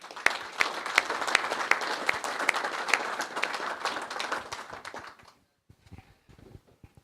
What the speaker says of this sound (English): I would like another round of applause for all the staff and everybody